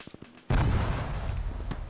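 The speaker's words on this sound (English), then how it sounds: "They were bombing just above." Bombs explode in a military video game set in a Falklands-style battle, a sudden loud blast followed by a sustained rumbling roar after a few faint earlier thumps.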